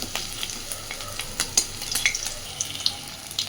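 Fat fritters frying in a little oil, steady crackling sizzle with scattered sharp pops and faint stirring scrapes, close and moderately quiet, no voices.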